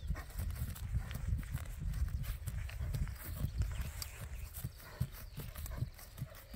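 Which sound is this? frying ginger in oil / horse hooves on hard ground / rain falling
horse hooves on hard ground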